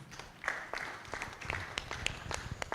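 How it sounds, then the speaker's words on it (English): Conference audience giving a round of applause for the first speaker, scattered claps from a modest crowd, fairly faint and uneven, with distinct individual hand strikes popping out of a soft background. "Please, can we give him a round of applause?"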